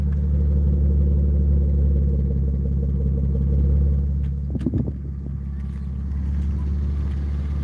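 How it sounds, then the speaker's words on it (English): Heard from the back of a BMW E36, the exhaust gives a deep, steady idling rumble, dipping briefly midway with a few close clunks before settling again. "Got the exhaust back here."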